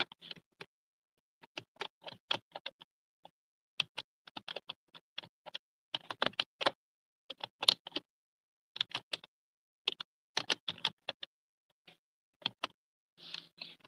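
Text being typed on a computer keyboard for a product poster design, with quick irregular clusters of light key clicks separated by short pauses, close and fairly quiet, with no talking.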